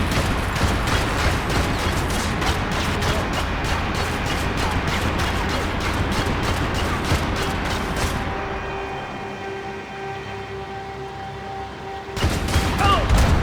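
Sustained gunfire from the video game Max Payne 3, a dense rapid stream of loud shots for several seconds that tapers into a quieter mechanical hum before a sudden loud burst returns.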